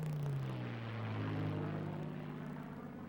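A P-51 Mustang fighter plane engine in a dive, a loud continuous propeller drone whose pitch slides slightly downward, with no voices.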